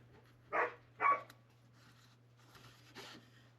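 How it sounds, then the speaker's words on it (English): Dogs barking in the background: two quick muffled barks close together, then a fainter third a couple of seconds later, over a low steady electrical hum. "the dogs were carrying on in the background here."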